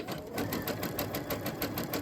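Sewing machine stitching a zig-zag or satin stitch, running steadily with a fast even clatter of needle strokes, close and alone without talk.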